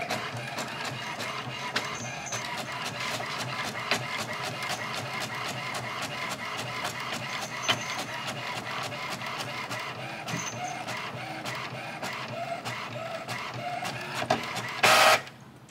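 A printer feeding out tattoo drawings with a busy run of rapid mechanical clicks and whirring carriage passes, close and steady for about fifteen seconds, ending in a short burst of louder paper rustle.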